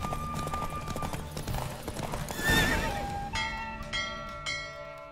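In The Witcher 3, a horse's hooves clip-clop in quick rhythm beneath game music, and a loud neigh rings out midway, fairly close, before the galloping continues with bell-like tones behind it.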